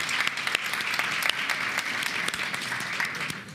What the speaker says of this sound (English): A round of applause for our talents from water.